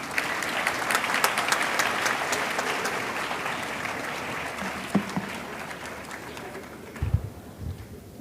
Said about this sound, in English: A louder round of applause to our awardees.